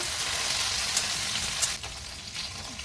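Green chillies fry in oil in a kadai, giving a close, steady crackling sizzle with a few sharp pops. It eases slightly toward the end.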